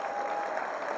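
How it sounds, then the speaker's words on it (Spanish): An audience at a business forum in Chihuahua, Mexico applauds, steady dense clapping from many hands filling the room, brief and even throughout. "Fuerte el aplauso para él, por favor."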